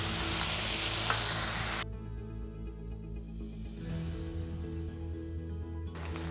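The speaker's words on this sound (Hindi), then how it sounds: "इन सारी चीज़ों को डाल के हम अच्छी तरह से चला लेंगे।" A noodle mixture with tomato sauce, chilli sauce and soy sauce is stirred in a pan, a faint sizzling hiss that drops back to quieter frying noise partway through.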